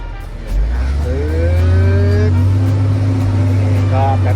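A TCM L40 long-arm wheel loader's diesel engine revs up and is held in fourth gear, a loud, steady low drone with rising tonal lines, close by and continuous.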